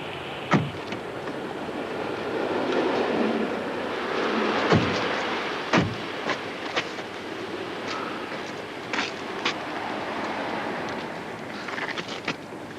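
A train running, its steady rumbling roll carrying on throughout at moderate level, with scattered sharp clanks and knocks from the carriages and no speech.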